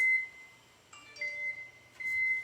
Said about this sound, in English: I'm going to put my timer on for 3 minutes